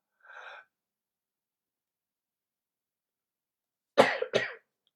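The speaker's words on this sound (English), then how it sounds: "Cough it out." A faint breathy exhale, then after a pause two quick, loud coughs close by, with silence in between.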